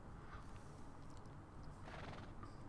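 A horse in the video game Red Dead Redemption 2 whinnies and clops its hooves nearby, a quiet, brief burst of neighing over soft clip-clop steps.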